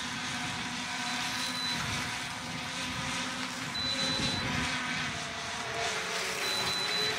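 A V11PRO drone hovers with its propellers whirring in a steady, loud, buzzy drone that holds throughout, with faint high electronic beeps now and then.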